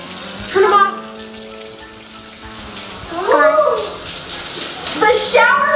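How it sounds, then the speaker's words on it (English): A shower runs into a bathtub with a steady, loud rush of falling water, while people talk over it in short bursts. "The shower's on, guys."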